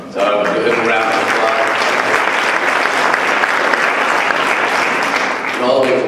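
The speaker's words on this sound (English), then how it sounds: "give her a big round of applause" A conference audience at a food conference claps in sustained, loud applause, a thick wash of many hands that holds steady for several seconds, with a voice briefly audible at the start and again as the clapping tapers near the end.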